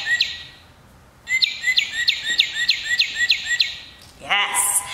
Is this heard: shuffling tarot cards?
no